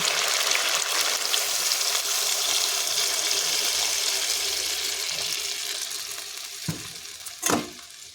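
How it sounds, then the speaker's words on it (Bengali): Water is poured into a hot frying pan of pumpkin, potato and fish curry, producing a loud, broad hiss and sizzle that slowly fades, followed by a couple of sharp utensil clinks. "এবার আমি এখানে দিয়ে দেবো সামান্য জল"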